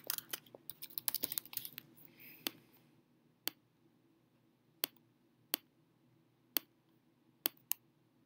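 Someone types patient details on a computer keyboard at an optometry office, with a quick cluster of keystrokes at first and then sparse, isolated key clicks spaced a second or so apart, close but quiet over a faint steady hum.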